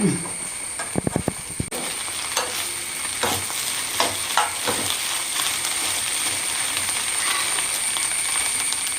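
Leftover-bread upma being stirred and fried in a pan: a constant close sizzle and hiss with a few quick metallic clinks early on, then steady scraping stirs, no talk.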